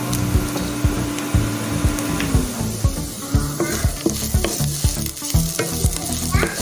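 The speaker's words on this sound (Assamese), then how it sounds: "ৰেডি হৈ গ'ল, একেবাৰে শুকানকৈ ভাজিছোঁ" Bamboo shoots stir-fried dry in a pan, with a steady loud sizzle broken by frequent sharp scraping and knocking strokes of the spatula against the pan, no voices.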